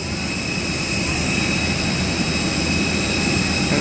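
Airbus A320 jet engines of a Citylink airliner drone continuously at close range, a loud even roar with a thin high whine and no talk.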